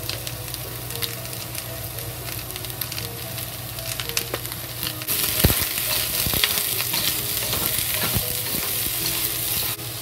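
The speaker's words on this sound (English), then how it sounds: "now we add the tomatoes into it. And just fry." Cabbage fries with tomatoes in a hot pan, a dense continuous sizzle with spatula stirs and scrapes, growing louder and brighter midway as more goes in, no voices.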